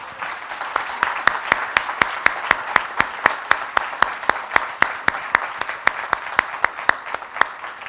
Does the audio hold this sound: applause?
yes